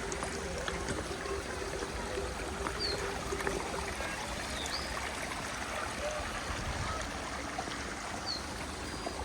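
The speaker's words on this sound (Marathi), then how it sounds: "झऱ्यातून येणाऱ्या त्या पाण्याचा आवाज पण येतो" Water in a village stream flows and burbles continuously in a steady outdoor wash, with a few faint bird chirps in the distance.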